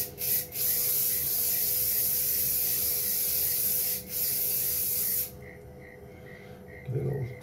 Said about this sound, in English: Bit of hairspray.